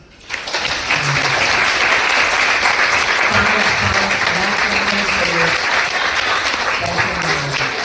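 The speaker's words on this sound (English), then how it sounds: "I want everyone in this room to give Fonda a clap, please" Sustained applause from a crowd, steady and loud for several seconds, with a few voices audible beneath the clapping.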